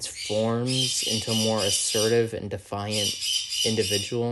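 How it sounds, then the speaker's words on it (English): Shrill, harsh bird squawks repeat in quick, raspy bursts close by, loud and continuous over a person talking indoors. "I apologize for the birds."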